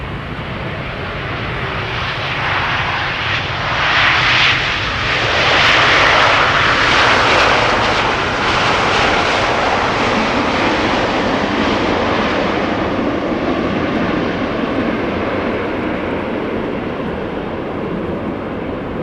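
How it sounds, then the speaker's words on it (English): A Boeing 777-200 airliner arriving at an airport passes overhead as a loud, broad jet roar that swells to a peak midway and then slowly fades, alone with no voices. "777-200 arriving from Cape Town."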